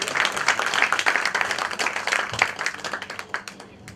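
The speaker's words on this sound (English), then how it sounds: "Can you please give him a round of applause, everyone?" Audience applause at a KTM press conference as the president of KTM Asia comes up on stage, a crowd of hands clapping steadily and fairly close, thinning slightly toward the end with a brief voice underneath.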